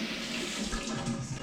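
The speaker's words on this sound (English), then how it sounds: "run it under a cold tap, because then it just cools it down" A caffettiera stovetop coffee pot is held under a cold running tap at home, the steady splash and gush of water filling the whole moment at close range with no voices.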